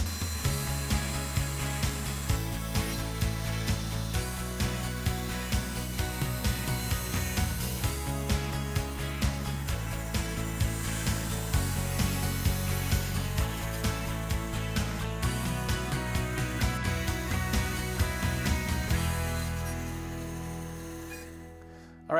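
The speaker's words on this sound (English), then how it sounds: "with this lower rail rough cut on the bandsaw" A bandsaw rough cuts a wooden lower rail for a patio planter, a steady whining buzz with shifting pitch as the blade moves through the wood, running continuously before winding down at the end.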